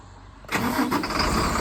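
A 2007 Freightliner M2 utility truck's diesel engine cranks and catches, then settles into a steady, loud rumbling idle close by.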